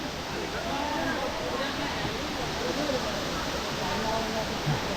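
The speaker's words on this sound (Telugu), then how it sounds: "ఇదే వాటర్ ఫాల్స్." Rampachodavaram waterfall reached after a short forest trek, roaring as a steady, broad wash of falling water close by, with no break across the whole stretch.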